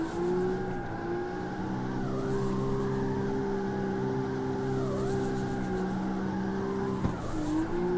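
Sustained tire squeal from a drifting car in CarX Street, a steady tonal screech riding over the droning engine, pitch sagging and rising as the slide shifts, loud and close throughout.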